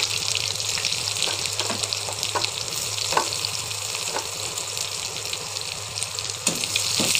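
Chopped onions hit hot oil already tempered with two bay leaves, three dried red chillies and cumin, giving a steady sizzling hiss broken by occasional scraping taps of a spatula, close and without voices.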